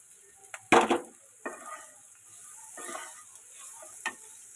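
Pasta ingredients fried in a pan with salt and turmeric, with soft sizzling under sharp stirring scrapes and clinks of a utensil against the pan, a few distinct strokes spaced apart.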